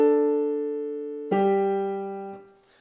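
A single sustained musical note held steadily, then a second note struck and held briefly before fading, with no talking.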